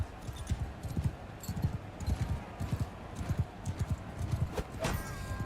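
Horse hooves clip-clop at a gallop in the Mount & Blade II: Bannerlord Old Realms mod during a knightly battle, a steady run of dull, close thuds with a brief whinny near the end.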